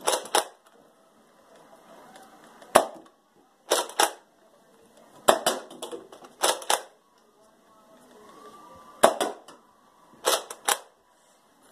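A Nerf Rival Khaos 500 blaster firing foam balls: sharp mechanical snapping shots, some single and some in quick pairs, spaced a second or two apart against a quiet background, with faint talk between them.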